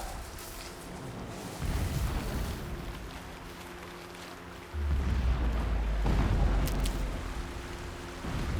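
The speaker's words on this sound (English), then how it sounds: "Explosions in the distance." Distant explosions rumble in Horizon Zero Dawn: deep, booming low thuds swell and linger over a constant roaring ambience, with two heavier surges standing out.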